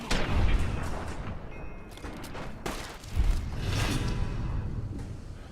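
Gunfire in a video game: bursts of muffled shots and booms roll through a dense, continuous barrage, with a couple of heavier thumps standing out at moderate loudness.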